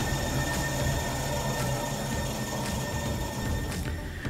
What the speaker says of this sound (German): Unser Zug fährt ein